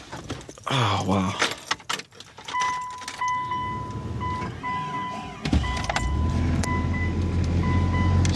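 A snow-covered Mitsubishi Galant with about 170,000 miles is cold-started in a Colorado Springs snowstorm: keys jingle and a door and window move, then the engine cranks and settles into a steady low idle.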